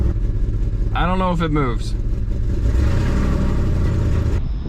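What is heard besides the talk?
Jeep WJ 4.7L V8 engine running with open exhaust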